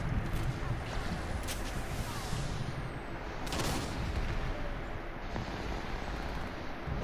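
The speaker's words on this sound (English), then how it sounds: "There's a sniper in the third part of that team is shooting me with a charge rifle." Charge rifle sniper shots in a battle royale video game crack out as a few sharp, distant bursts, spaced a second or two apart, over a continuous noisy game background.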